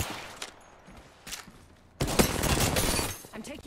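Sustained automatic gunfire from Apex Legends: a few faint, distant shots first, then a loud, dense burst of rapid fire that keeps going.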